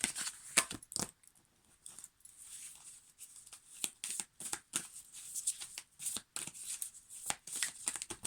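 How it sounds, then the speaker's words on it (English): Tarot cards shuffled by hand in a series of quick riffling, flicking bursts with short pauses between, close and fairly soft, with no talking. "All of these cards just want to come out all at once."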